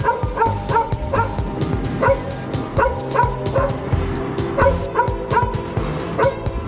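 Several dogs bark and yip repeatedly in sharp bursts, some close and loud, with occasional whimpers between barks.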